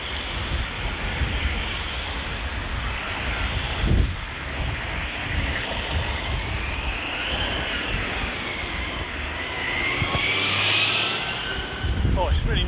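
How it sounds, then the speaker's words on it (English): Steady road traffic outside Luton police station, a continuous rumble of passing vehicles with louder swells as cars go by, under occasional talking. "sorry about all the traffic noises."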